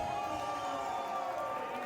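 A wrestling crowd at an SPW Warpath show cheers and whoops for Fuego del Sol's entrance, a sustained roar under a loud ring announcer's voice and music.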